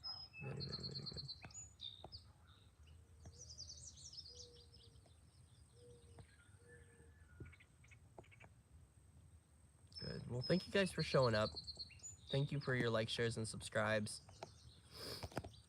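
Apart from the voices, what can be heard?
birds singing outdoors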